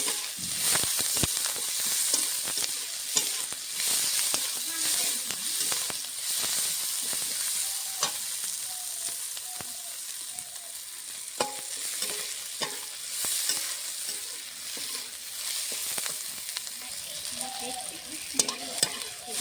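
Chopped onion and chilli fry in mustard oil, a persistent crackling sizzle close by, with frequent spoon scrapes and clicks against the pan as the mixture is stirred.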